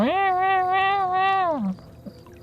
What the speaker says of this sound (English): See, my cat's in a bad mood.